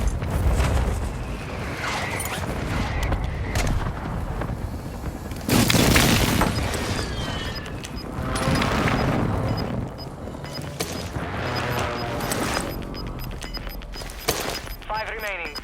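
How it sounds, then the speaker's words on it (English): Mortar strike explosions in the video game Warzone 2 boom and crash in a loud burst around the middle, followed by further rumbling impacts, over a continuous bed of game sound and announcer-style voice lines. "Hostile mortar strike incoming."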